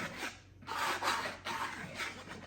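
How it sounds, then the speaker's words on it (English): Dry ingredients for pumpkin whoopie pies, including pumpkin pie spice, are whisked in a bowl with brisk, rasping strokes that swell and fade in quick repeated bursts, close and fairly loud with no talking. "now I like to whisk all this together before adding it to the mixer"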